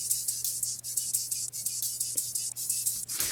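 Hi-hats lifted from the original drop, with mids and lows cut away, tick in a steady fast pattern of bright, crisp hits, alongside a thin low hum and a brief noisy swell near the end.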